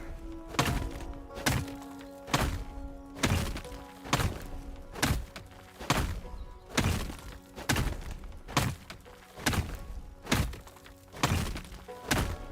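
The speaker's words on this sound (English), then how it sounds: "That's the sound of the men working on the chain." Steady rhythmic heavy thunks from men working on a chain in the video game Alaska Gold Fever, like hammers or picks striking hard material, repeating roughly every second with ringing metallic overtones between blows.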